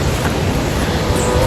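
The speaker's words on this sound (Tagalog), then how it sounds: "Malakas yung alon." Strong sea waves breaking on the shore of Sibuyan island, a steady loud wash of surf blended with wind rumble, continuous throughout.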